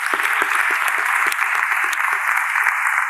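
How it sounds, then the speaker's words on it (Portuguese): Applause from an audience, a dense clapping wash that stays steady and fairly loud for the whole stretch, with no one speaking over it. "uma salva de palmas para os ouvintes do podcast Inspiração para uma Vida Mágica"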